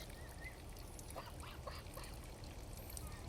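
A goose on a farm gives a few faint, scattered calls against a soft, constant background hiss, with no talking.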